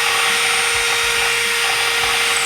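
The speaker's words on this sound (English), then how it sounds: "we need to drill these rivets out for the factory jack rod" A power drill fitted with a 1/8-inch bit whines steadily and loudly without pause, drilling out rivets for the factory jack rod on a 1992-96 Bronco or F-series truck hood, with no talking.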